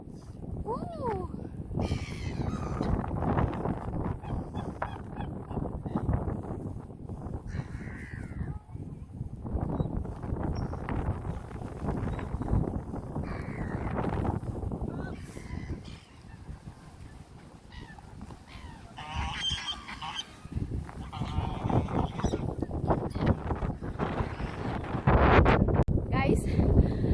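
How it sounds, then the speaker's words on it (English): Strong wind during a snowstorm in the Netherlands, a constant, loud rushing buffeting the microphone in gusts, with people talking over it throughout. "Very serious situation right now. It's like it's storming."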